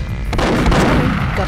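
Gunfire from the video game Perfect Dark, a loud dense burst of shots packed into a second and a half with heavy booming low end, the blasts running together without pause.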